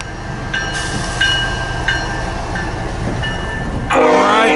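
BNSF freight train heading southbound through a snowstorm in Fremont, Nebraska, passing loud and close with repeated horn blasts, continuous rolling rumble and a final sustained horn.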